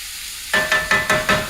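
Seasoning with roasted garlic powder being stirred through a sizzling cheesy taco skillet, five rhythmic scraping strokes over a steady frying hiss, close and alone.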